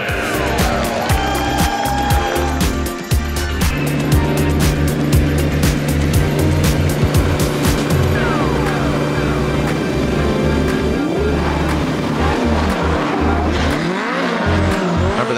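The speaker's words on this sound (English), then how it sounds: "Here comes Ryan Turk, that Rain-X Toyota GR Corolla, initiating into that first front clip." Toyota GR Corolla drift car on Nitto tires at a Formula Drift event in Atlanta: a loud, close engine revs and bounces off the limiter while the tires squeal through a long continuous slide.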